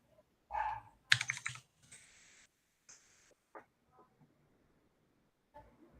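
Keys clack on a computer keyboard in scattered, uneven taps and a couple of louder presses, close and alone without speech.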